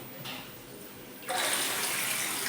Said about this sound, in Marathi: टाकी भरलेली आहे आपण पाणी सोडू